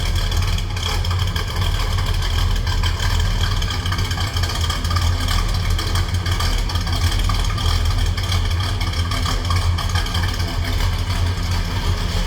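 A 1967 Pontiac GTO idles with a steady, loud low rumble, an unbroken engine drone over constant broadband noise with no pauses.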